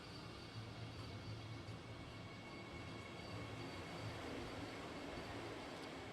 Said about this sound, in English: flagging off the prestigious Vande Bharat Express train to Kasaragod